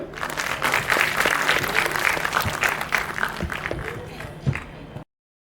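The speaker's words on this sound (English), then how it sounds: "Please welcome our little star with a big round of applause." Audience applause at a school graduation ceremony and annual function, a sustained dense wash of many hands clapping for about five seconds with crowd noise mixed in, then cut off abruptly to silence.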